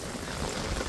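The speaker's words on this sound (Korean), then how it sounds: "왜 갑자기 제가 영상 찍는데 비가 이렇게 더 세게 오죠?" Heavy rain pours outdoors in a garden where large plant pots stand, a steady dense wash of drops hitting surfaces, close and continuous with no talk.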